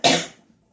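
A single sharp cough bursts out close to the mic, fading quickly into near silence, no talk around it.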